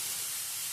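Batter sizzles on an oiled frying pan, a close, steady hiss lasting under a second.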